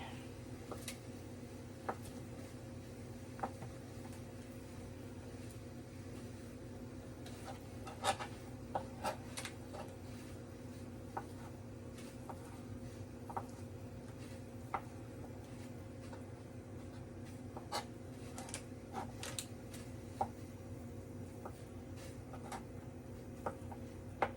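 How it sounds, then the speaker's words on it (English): Knife dicing Spam into small cubes on a cutting board while split pea soup sautés nearby, sparse sharp taps spaced irregularly over a faint steady background hum, soft and close. "I'm just gonna cut this up into little cubies"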